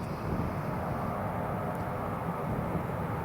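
An easyJet Airbus A320 spools its jet engines to full takeoff power on a tailwind departure at Newcastle Airport, a loud, continuous rumbling roar heard from nearby without talk.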